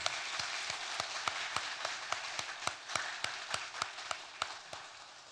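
Brisk, steady clapping from a group, with sharp individual claps standing out in a fairly even rhythm over a dense wash of hand noise.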